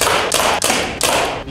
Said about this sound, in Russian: Простреливаю каждую коробку, начиная снизу